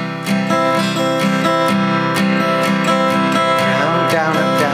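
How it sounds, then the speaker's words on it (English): Acoustic guitar strummed slowly with a plectrum, alternating downstrokes and upstrokes on a steady chord pattern, close and clear throughout with no voice over it. "So when you're strumming, and I'll do it very slowly, it will sound like this."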